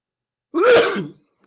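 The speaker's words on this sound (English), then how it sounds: "Sorry, sneezed a little bit." A single sharp sneeze, close and loud, with nothing else around it.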